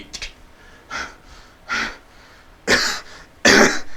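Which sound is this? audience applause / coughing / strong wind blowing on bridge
coughing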